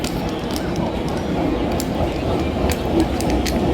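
Steady rumbling of a moving Hong Kong Disneyland train with faint rhythmic clicks from the rails, loud and continuous, with some talking in the background.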